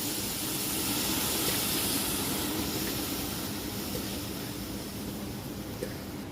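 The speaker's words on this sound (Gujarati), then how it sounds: "દૂધી અને દાળને ફ્રાય કરી લઈ તેલમાં." Bottle gourd and chana dal frying in hot oil give a steady, loud, broadband sizzle and hiss that fades slightly toward the end, with no voices.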